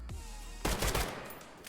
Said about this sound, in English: Guns sound good